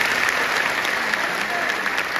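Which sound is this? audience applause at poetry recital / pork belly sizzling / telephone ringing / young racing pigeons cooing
audience applause at poetry recital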